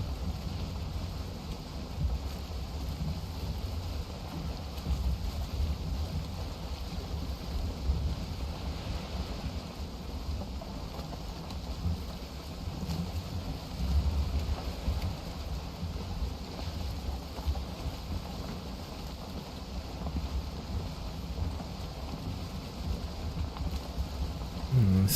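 A karve longship sails across open water in the Valheim video game, with a steady wash of waves and wind rushing past the hull, continuous and fairly loud throughout, and no voices.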